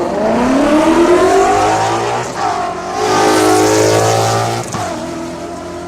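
A race car climbs the Giants' Despair hillclimb, its engine roaring loud and close with rising and falling revs through gear changes, a continuous howl with brief dips between shifts.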